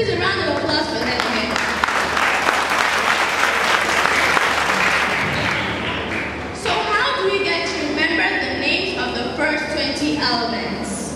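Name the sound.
audience applause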